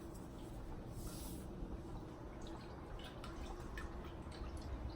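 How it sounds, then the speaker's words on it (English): Water trickling and dripping into a saucepan while salted water is prepared for steaming broccoli, a steady soft splashing wash with small scattered drips and clinks, moderately close. "I'm going to prep this by putting water and salt in it"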